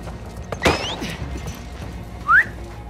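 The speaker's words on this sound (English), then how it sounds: "Stop fucking whistling." Enemies in The Last of Us Part II whistling to each other: a sharp rising whistle early on and a second, shorter upward whistle near the end, mixed with faint in-game thuds.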